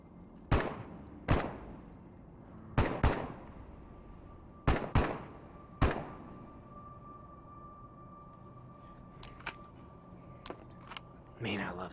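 Gun blasts in the VR shooter Into the Radius ring out as separate sharp shots, singly and in quick pairs, with fainter shots later; someone speaks in between.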